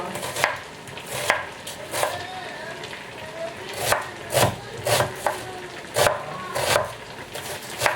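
A knife chops onions on a cutting board in a series of sharp, irregular strikes, about a dozen crisp cuts spaced unevenly over a quiet kitchen background.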